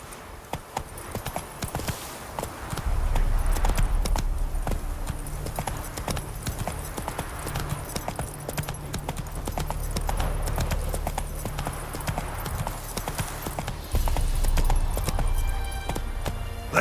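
Rhythmic clip-clop of a horse's hooves at a gallop in The Witcher 3 video game, continuous and fairly close over a low rumbling game soundtrack.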